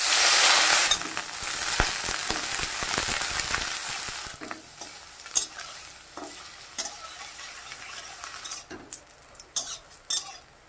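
Brinjal frying in mustard oil in a wok with dried chilli and nigella seeds, a loud sizzle at first that settles into steady frying with scattered clinks and scrapes of a spatula stirring.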